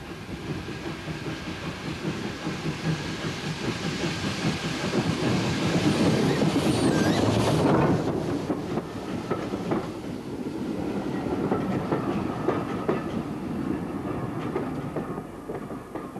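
A steam tank locomotive rolls into a station on the Forth Valley Railway with rumbling wheels and clanking rail noise, growing louder then easing off, with a brief hiss of steam midway.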